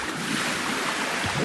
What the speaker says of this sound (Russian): и появились океаны